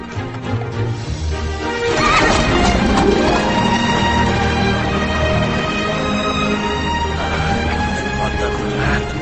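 A horse neighs loudly over continuous galloping hoofbeats in a film scene, the clatter steady and close throughout with a brief crash near the start and a voice barely audible underneath.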